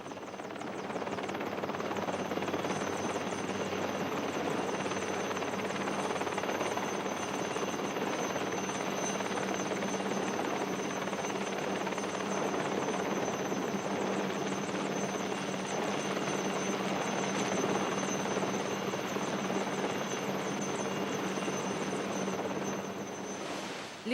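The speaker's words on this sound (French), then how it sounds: "c'est l'hélicoptère de la protection civile qui montre comment procéder à l'hélitreuillage d'une" Civil protection helicopter hovering to winch a stretcher, a steady loud rotor and turbine roar with a whining tone running unbroken throughout, no voices.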